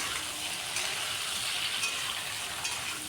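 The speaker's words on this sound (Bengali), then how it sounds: "লবণ দিয়ে একটু ভালোভাবে নাড়াচাড়া করে নিলাম ঝিঙ্গেটাকে।" Ridge gourd with salt sautés for a jhinge posto, producing a soft, steady hiss of frying with faint stirring scrapes, low in level and without voices.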